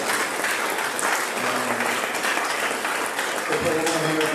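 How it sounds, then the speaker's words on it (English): Audience applause at a celebration-of-life memorial service, a loud, continuous roar of clapping that swells throughout, with voices and a faint tonal sound emerging near the end. "I want to give you guys a round of applause"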